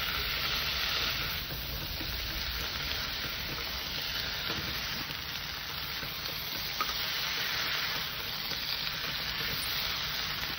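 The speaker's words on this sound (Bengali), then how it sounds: "সবজিটা আমি খুব সুন্দর করে কষে নিয়েছি" Mixed vegetables with spinach sizzle and fry steadily in a pan for a Bengali ghyat. The frying is close, constant and dense, with faint stirring underneath and no talking.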